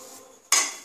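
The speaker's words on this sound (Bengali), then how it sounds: "গ্যাসে কড়াই বসিয়ে দিয়েছি" A kadai (wok) is set down on a gas stove while coconut ladoo with jaggery and sugar is being made. A single close metallic clank breaks a quiet hiss, then rings and fades.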